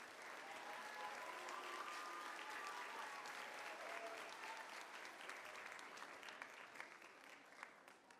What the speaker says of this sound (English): Can we have one more round of applause for Miss D.